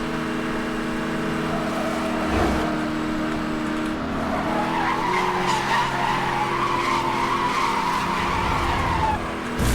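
Racing car in Need for Speed: Hot Pursuit (2010) driving flat out during a police chase, a steady loud engine roar with tire skids and squeals throughout, no talking.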